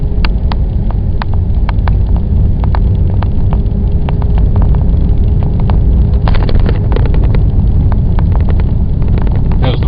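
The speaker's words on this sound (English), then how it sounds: "so you do hear a little bit of road noise on the rough road surfaces" Steady tyre and road rumble inside a supercharged 2008 Cadillac XLR-V on run-flat tires over rough Florida road surfaces, continuous and fairly loud with scattered sharp ticks and clicks.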